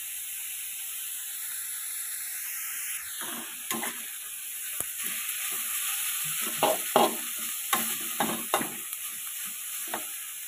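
Minced pork for Thai holy basil stir-fry sizzles and bubbles steadily in a pan under a constant bright hiss, broken by a series of sharp scraping and clacking strokes from a spatula in the later part.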